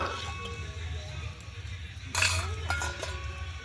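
Utensil clinks against a pot while rice is stirred during village-style chicken biryani cooking, a few light metallic taps over a low steady background hum, with a sharper scrape-and-clink burst midway.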